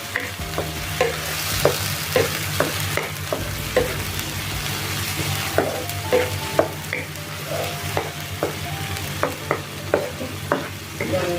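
Paneer and vegetables being stirred and fried on a slow flame, with a steady sizzle under repeated scraping strokes of a spoon against the pan at an even rhythm.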